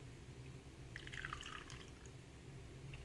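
Water reducer trickles briefly into waterborne paint for smoking taillights, a soft, faint liquid pour lasting about a second over quiet background hum.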